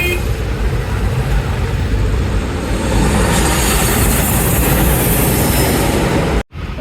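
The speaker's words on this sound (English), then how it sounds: "Now we have air India express Boeing 737 MAX 8 straight from Abu Dhabi." An Air India Express Boeing 737 MAX 8 arriving from Abu Dhabi at night, a loud steady broadband roar of jet engine noise holding throughout before cutting off abruptly near the end.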